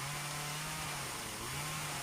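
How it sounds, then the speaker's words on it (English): Dime tip chainsaw carving wooden cardinal birds, a faint, steady engine drone held at a constant pitch, heard at a distance with no voices. "We're using our dime tip chainsaw to carve them out."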